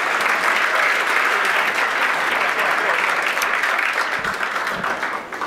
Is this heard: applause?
yes